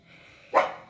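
A dog gives a single short, sharp bark that stands out loudly from faint indoor background, with no talking.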